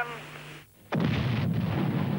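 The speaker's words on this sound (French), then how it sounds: "La première explosion a lieu sur l'île d'Eniwetok, dans le Pacifique, en 1951" A hydrogen bomb test explosion erupts after a brief hush, a sudden massive blast that rolls into a sustained, loud, rumbling roar.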